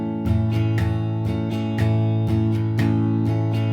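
Guitar strummed in a steady repeating rhythm with the second note of the pattern left out, giving clear, evenly spaced chord strikes with short gaps, played alone at moderate loudness.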